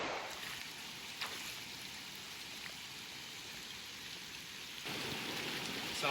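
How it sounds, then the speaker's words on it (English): Steady rain falls outdoors around a broken-down van after a night of showers, a dense even hiss throughout that swells a little louder near the end, with no one talking. "So we got struck with a bit of rain last night. It's still carrying on a bit."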